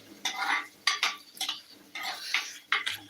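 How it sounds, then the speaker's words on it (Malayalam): A utensil stirs mackerel curry in a clay pot, making several short scraping and clinking strokes close up, each a brief burst separated by small gaps. "ഇത് നന്നായിട്ടൊന്ന് ഇളക്കി കൊടുക്കാം കേട്ടോ"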